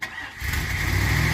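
A vehicle engine, apparently on an E-series or F-series Ford van or pickup, turns over and catches, settling into a steady idle that carries on close by.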